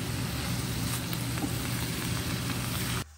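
Dried tofu sizzles and fries steadily in a hot wok for a dry-pot dish, a loud continuous crackle that cuts off abruptly near the end.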